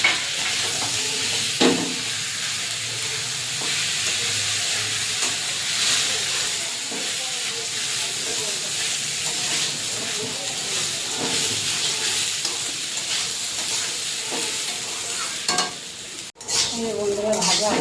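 Soaked, drained rice frying and being stirred in a pan for pulao, a steady close sizzle with scraping stir strokes throughout and no talking.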